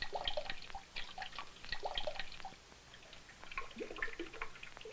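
Water drips and trickles nearby in irregular clusters of small bright plinks and splashes, fairly quiet and alone, with uneven pauses between bursts.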